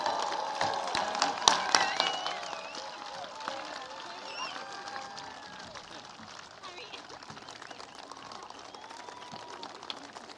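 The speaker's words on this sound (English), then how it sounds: "join me with a lot of energy and love in a huge round of applause" Applause at a high school graduation ceremony for the class of 2025, with claps and cheers loud at first and then tapering to a softer patter, a voice talking over it throughout.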